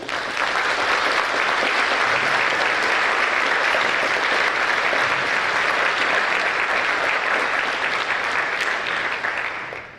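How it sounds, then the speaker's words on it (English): A packed room at a high school career and technical education awards ceremony applauds students, the clapping thick and sustained at an even level for about ten seconds before tapering at the very end. "Let us give all of these students a round of applause"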